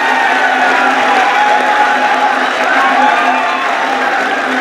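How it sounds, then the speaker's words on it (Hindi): A poetry recital audience claps and cheers loudly and continuously, a dense wash of applause from a large crowd with voices mixed in. "जोरदार तालियां साथियों, जोरदार"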